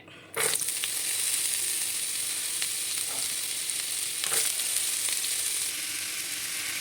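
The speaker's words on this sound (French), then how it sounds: "elles sont en train de se faire frire" Vegetables poured into hot oil in a pan start frying, a sudden burst of sizzling that stays loud and steady, with occasional stirring scrapes, for a Moroccan couscous dish.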